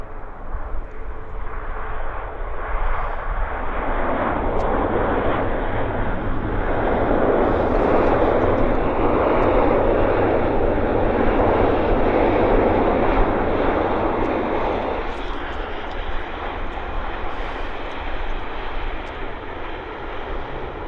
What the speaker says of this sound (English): let's get this Q400 landing right now, right there